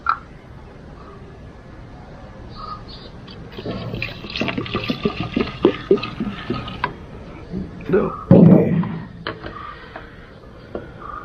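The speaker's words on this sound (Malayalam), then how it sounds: "നൈസായിട്ട് അതിലേക്ക് വെള്ളം ഒഴിച്ച് കൊടുക്കട്ടെ." Tap water poured into a plastic foam wash can for a home car and bike wash, a splashing, gurgling fill in two bursts, the second louder and closer, over a quiet indoor background.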